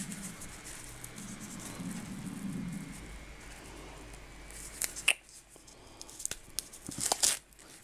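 Crinkling and tearing come from unpacking the box of a Divoom Timebox-Evo Bluetooth pixel-art speaker, with a sticker pulled off. Faint rustling gives way to sharper, close snaps and rips near the end.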